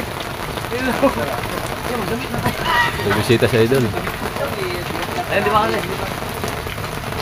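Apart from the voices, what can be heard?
rain falling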